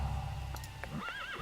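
Light horse cavalry in the real-time strategy game Rise of Nations, a single neigh rising into a wavering whinny near the end, preceded by faint clip-clop hoof ticks over a low background hum, no talking.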